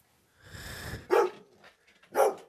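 Dog barking nearby, with a low growl first and then two loud, separate barks about a second apart, and no voices over them.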